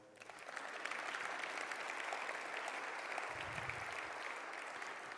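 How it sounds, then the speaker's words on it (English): Audience clapping during the Macon-Bibb mayor's 2024 State of the Community speech, a sustained, fairly distant round of applause filling the hall, with a low rumble partway through. "You can clap right there"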